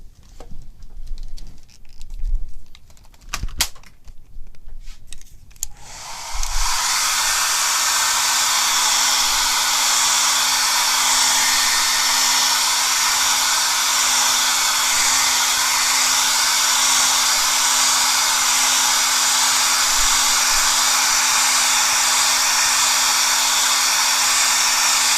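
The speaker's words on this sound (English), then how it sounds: "so I have to blow dry that." A hair dryer blows on wet paint, starting after a few seconds of quiet with faint taps, then a loud, steady, close whoosh and motor hum that holds unbroken to the end.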